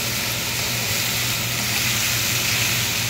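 Okra sizzles steadily in a pan while being stir-fried for dopiaza, a dense, unbroken frying hiss that stays loud and even throughout.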